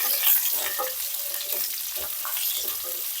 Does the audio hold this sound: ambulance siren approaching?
no